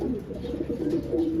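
Several small pet pastel lovebirds coo softly and continuously nearby, a low overlapping murmur of gentle calls.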